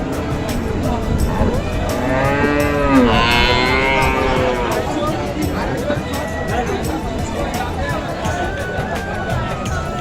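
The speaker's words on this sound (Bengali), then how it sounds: "এটা মূলত গাভী গরুর হাট।" Cows moo loudly and close by at a busy cattle market, with several drawn-out calls rising over a constant background of crowd chatter and people talking.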